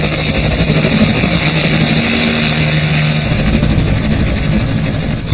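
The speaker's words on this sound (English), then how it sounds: "Our pilot lifts our helicopter off the ground" A loud, continuous helicopter engine and rotor roar as it lifts off in Hawaii, steady and close, filling the whole stretch with no talk.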